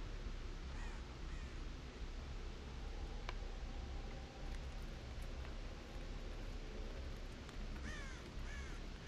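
A crow caws several times in the horror game Dead by Daylight, short raspy calls scattered over a steady noisy background, with no talk.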